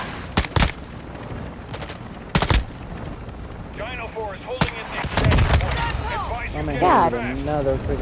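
Call of Duty: Modern Warfare II combat with sharp, loud gunshots in separated bursts, a heavier blast in the middle and a rumbling rocket impact, while voices talk over the later part.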